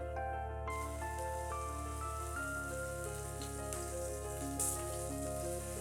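Green pea paste goes into hot ghee with asafoetida and black cumin, giving a faint, continuous frying sizzle beneath steady tonal background music.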